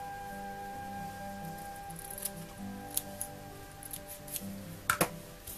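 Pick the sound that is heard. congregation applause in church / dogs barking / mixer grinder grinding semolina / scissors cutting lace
scissors cutting lace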